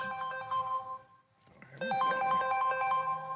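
A mobile phone ringtone plays during a city council meeting, a bright repeating melodic tone that stops briefly, then resumes loud and close, with no talking over it.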